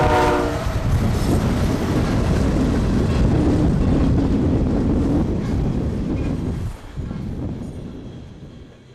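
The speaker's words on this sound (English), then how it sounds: "Look to your right. Holy freak, train." A train passes close by, its horn sounding at the start over a loud, steady rumble and wheel clatter that fades slightly toward the end.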